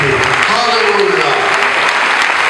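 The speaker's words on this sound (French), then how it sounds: "Est-ce que tu ne peux pas acclamer encore?" Church congregation cheering and applauding during a worship service, a dense steady wash of clapping and voices with crowd vocal tones rising through it.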